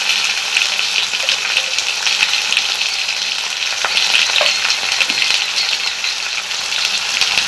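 Turmeric frying in white cooking oil while being stirred in a pan for a bottle-gourd leaf fritter curry, a continuous close, bright sizzle with scraping stir strokes, fairly loud and unbroken, no voices.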